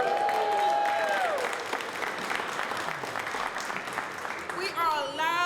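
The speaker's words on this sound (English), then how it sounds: "Let's give us a round of applause," Steady applause from a crowd at a New York press conference for MWBE advocacy, filling the whole stretch, with a voice over it briefly at the start and again near the end.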